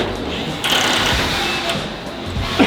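A low-torque driver whirs in quick bursts while tuning a snare drum head on a drum factory floor, a busy mechanical buzz heard close up under a voice talking.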